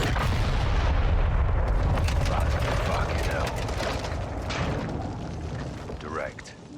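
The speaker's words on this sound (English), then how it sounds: "the General in turn orders Graves to launch a missile directly onto Gorbrani" A missile strike in the video game Modern Warfare II (2022): a loud, sustained roaring blast and rumbling explosion that fills the whole stretch, with debris-like crackle and mechanical noise slowly easing toward the end.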